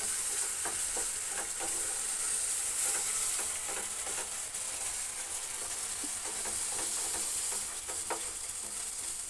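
Steady scraping swirl of a spoon stirring sugar into a little milk for patishapta batter, continuous and close, with faint sizzle-like hiss running underneath throughout.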